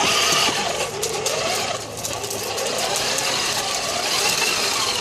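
A car driven as a beginner steps on the pedal, a steady, fairly loud engine hum with a rough mechanical texture, close and continuous throughout, with no clear speech.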